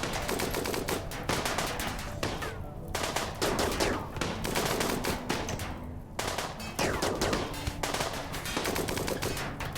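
Dense, continuous gunfire in the video game Rimworld as colonists shoot at mechanoid turrets, with rapid machine-gun-like bursts and overlapping shots filling the whole stretch, loud with only brief lulls.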